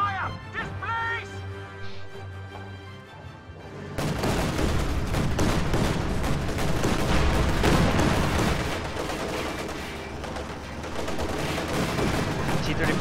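A video game battle with a heavy infantry volley, dense overlapping rifle gunfire and booms that swell abruptly after a quieter opening, loud and sustained over a busy combat soundscape.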